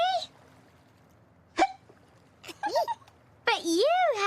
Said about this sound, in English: Abney had caught the hiccups.